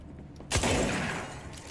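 Gunfire shatters a window in the video game Control: one sudden loud burst of shots and breaking glass, then a ringing decay that fades over about a second, with no talking.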